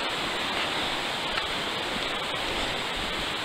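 The Little River flows along a mountain herd path, a steady, even rush of water that holds the whole time, moderately close with no voices.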